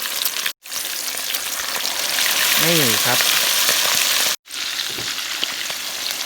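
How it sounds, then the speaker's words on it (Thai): Egg-coated food hits a hot pan and fries with a loud, steady crackling sizzle that goes on throughout, broken by two brief dropouts, while someone speaks a few words over it. "โอ้โหลงกระทะปุ๊บหอมปั๊บทันทีเลยครับ"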